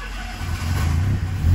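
A car engine runs steadily after a fuel pump fault has been fixed, a close mid-pitched idle that rises slightly and holds.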